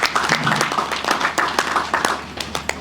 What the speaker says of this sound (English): clap for yourself there